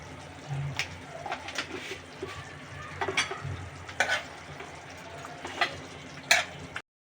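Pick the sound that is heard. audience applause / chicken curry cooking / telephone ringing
chicken curry cooking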